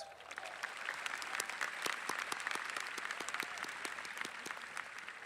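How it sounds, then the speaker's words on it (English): A high school graduation audience claps steadily for school trustees, a moderately distant, even patter of many hands sustained throughout without speech. "give these guys a round of applause"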